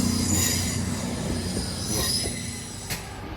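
A CrossCountry train running from Plymouth to Glasgow gives a loud, sustained high squeal from its wheels as it rolls past, with steady rumble underneath and no speech.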